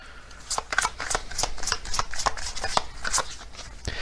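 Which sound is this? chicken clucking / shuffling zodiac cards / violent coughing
shuffling zodiac cards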